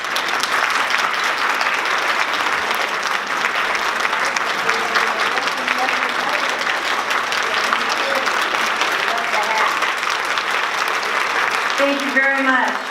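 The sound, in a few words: audience applause welcoming Captain Donna Curtis Rowe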